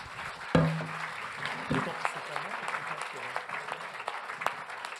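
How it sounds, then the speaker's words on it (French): An audience at a debate hall event applauds warmly for the organiser, continuous moderate clapping from a sizeable crowd running under a speaking voice, with a few sharper claps standing out. "Vous pouvez l'applaudir très chaleureusement."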